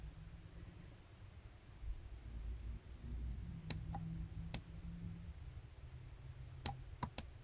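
A few sharp, isolated mouse clicks sound while working in embroidery design software, spaced over low steady background hum.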